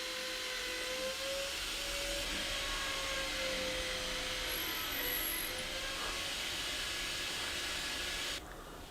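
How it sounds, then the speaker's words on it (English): Power drill boring steadily through wood for dowels in a woodworking shop, a continuous whirring hiss with a slight pitch wobble, running alone and close before stopping near the end. "And drill all the way through."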